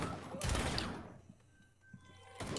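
Gunfire in the video game Rainbow Six Extraction: a loud burst of rapid shots that fades into a quieter tail, followed by another burst at the end.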